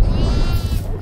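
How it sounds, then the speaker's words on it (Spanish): A goat in the horror video game Devour gives one short, close, loud bleat that fills the whole moment. "Vamos, puta cabra de mierda."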